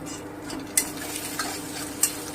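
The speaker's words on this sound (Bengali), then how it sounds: "এক চামচ আদা বাটা দিলাম হালকা করে একটু ভেজে নেব" Ginger paste frying in a pan for a yogurt eggplant dish, a close steady sizzle with spatula scrapes and a few sharp clicks against the pan, no voices.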